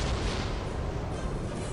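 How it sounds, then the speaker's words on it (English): Artillery fire in the video game Dawn of War Winter Assault, a dense continuous rumble of booming blasts, loud and unbroken for under two seconds with no talking. "Where's that artillery coming from?"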